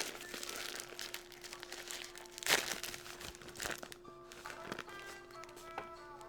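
Butcher paper wrapping around packaged snack cookies crinkles and rustles close by in a series of crisp bursts and sharp crackles, with a louder crunch partway through and quieter handling sounds toward the end.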